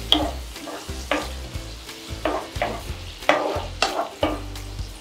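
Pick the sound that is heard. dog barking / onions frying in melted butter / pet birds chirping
onions frying in melted butter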